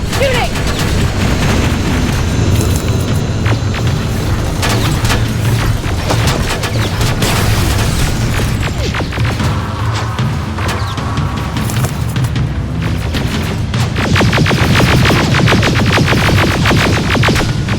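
Dense, continuous gunfire and booming explosions in the combat video game Terminator Resistance, loud and relentless throughout with rapid automatic bursts layered over heavy blasts.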